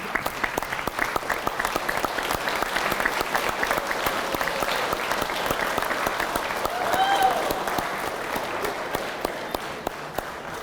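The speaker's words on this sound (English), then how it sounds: "give them a great round of applause" Sustained applause from a graduation audience standing to honor parents, steady and full for about ten seconds with scattered cheers mixed in.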